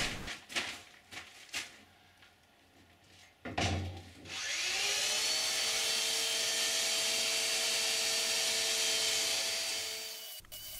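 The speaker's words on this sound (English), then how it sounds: "Moving outside for some sanding." After a few knocks and handling sounds, a power sander starts up outdoors, sanding the wooden hull-to-deck joint of a homemade kayak, running with a steady, loud whining buzz before cutting off abruptly.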